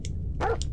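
A dog barks in the video game Parasite Eve, a single short, sharp bark over a low background hum, close and fairly loud, with faint clicks just before and after.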